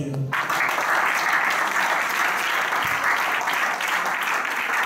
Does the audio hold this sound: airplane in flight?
no